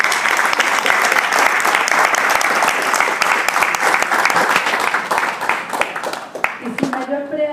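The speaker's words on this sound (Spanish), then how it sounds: "para quien también pido un fuerte aplauso" An audience at a book presentation breaks into strong, dense applause, loud and continuous, fading out near the end as a voice begins speaking.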